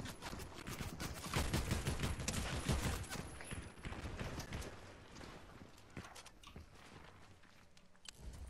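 Bursts of gunfire during a Fortnite match, loudest early on and then thinning out, with footsteps and other game noise mixed in and fading toward the end.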